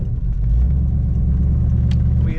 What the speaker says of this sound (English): Today we're driving a 1937 Ford Deluxe sedan.